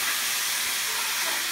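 Cool water hits a hot cast iron pan and erupts into a steady, bright steaming hiss that stays loud and even throughout, close up with no talk.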